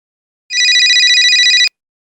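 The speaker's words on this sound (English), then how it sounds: "his cell phone went off" A cell phone rings once with a bright, trilling electronic ringtone lasting just over a second. It is loud and close, with silence before and after.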